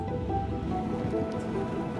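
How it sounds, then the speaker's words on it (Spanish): Heavy rain falls steadily while people are out travelling in Sweden, a dense continuous hiss and patter with no breaks, loud and close, with no voices. "Lluvia bastante intensa, por cierto."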